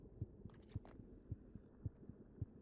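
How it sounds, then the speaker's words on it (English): Slow heartbeat thumps from a Minecraft modpack, deep paired pulses repeating steadily about every half second, soft and low, with faint higher tones briefly overhead. "I'm telling you, that slight heartbeat, can you hear that?"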